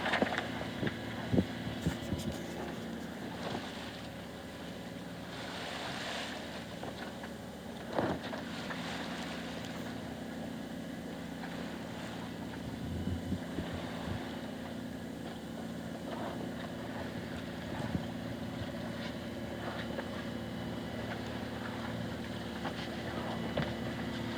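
A boat's steady low engine hum drones throughout, with occasional soft knocks and faint voices now and then over the constant motor noise, at sea off Corsica.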